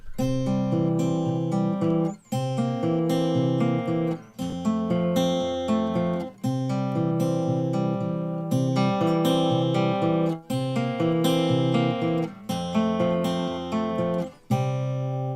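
Fingerstyle acoustic guitar plays a chord progression, each chord plucked and ringing for about two seconds before the next, clear and solo.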